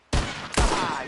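Two sharp, loud gunshots about half a second apart fired at bottles in a PS4 video game, each with a short ringing tail.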